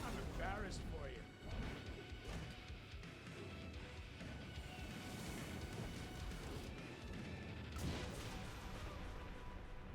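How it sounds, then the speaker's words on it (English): Explosions and crashing impacts from the Transformers Devastation video game, a loud dense burst near the start and another around the eighth second, with voices talking over the game. "Explosion noise."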